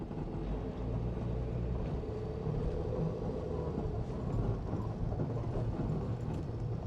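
A car drives along a sunny town street in central and Kato Paphos, Cyprus, its low engine and road rumble steady and close throughout with faint occasional squeaks.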